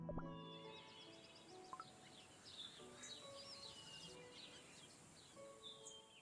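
Bright, quick bird chirps and tweets from the Cookie Run: Kingdom video game, scattered in short bursts over a soft, steady musical backdrop, moderately loud and close.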